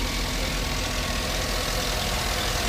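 A used 2014 Cadillac Escalade's 6.2-liter V8 idles smoothly and steadily, a constant low engine rumble with no revving or speech.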